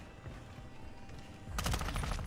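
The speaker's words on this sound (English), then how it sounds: "Our mortar strike is inbound." Mortar strike explosions in Modern Warfare 2 multiplayer: a low, rumbling background of distant fire, then a loud, rapid cluster of blasts during the last second.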